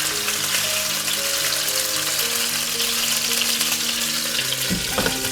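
Grey mullet frying in sesame oil, a loud continuous sizzle with dense crackling, heard under steady background music.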